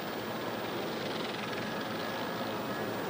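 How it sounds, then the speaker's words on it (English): Airplane tires skidding and burning on a runway during a rough landing with intact landing gear, heard as a loud, steady, broadband roar that holds throughout without a break. "That's the tires burning out there."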